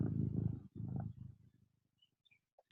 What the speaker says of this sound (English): I could hear the purring